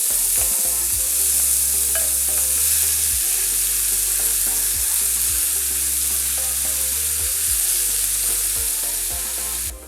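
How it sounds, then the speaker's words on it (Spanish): Seasoned ground beef sizzles steadily in three spoonfuls of olive oil in a pan, with repeated stirring and scraping knocks over a continuous loud fry, no voices present. "voy a agregar en un sartén 3 cucharadas de aceite de oliva y agrego la carne molida que ya teníamos sazonada"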